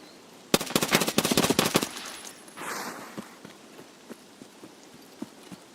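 A fast burst of automatic gunfire with AP ammo in PUBG Mobile, a rapid rattling string of shots lasting over a second, then a softer whoosh and scattered quiet clicks and footsteps, no talk.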